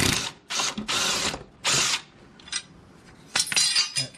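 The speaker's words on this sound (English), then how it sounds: "So the blade's real easy. It's just a 5/8 socket." A ratchet with a 5/8 socket works loose the blade bolt on a Troy-Bilt TB360 lawn mower, giving several bursts of rapid, close clicking separated by short pauses.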